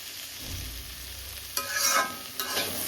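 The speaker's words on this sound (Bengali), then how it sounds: "অনেকদিন পর কপি বাজি করতেছি" Cauliflower stir-fried with spices in a pan: a steady low sizzle, then two louder scraping stirs near the end, with no talk.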